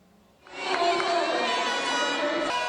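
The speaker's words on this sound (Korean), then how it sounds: "피리를 불고 소리를 지르고" Spectators at a world youth taekwondo championship cheer and blow whistles, a dense roar of shouting with whistle tones swelling in abruptly and holding loud and continuous.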